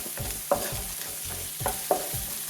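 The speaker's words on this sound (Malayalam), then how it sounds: "ഹൈ ഫ്ലെയിമിലിട്ട് നമുക്ക് നന്നായിട്ട് തന്നെ ഇളക്കി കൊടുക്കാം" Vegetables stir-fried over a high flame for egg fried rice hiss and sizzle steadily, with repeated clattering scrapes and knocks of the spatula against the pan, close by.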